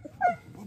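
A frightened small female dog gives a brief, close whimper, a single soft whine rising and falling within a moment, amid faint background noise.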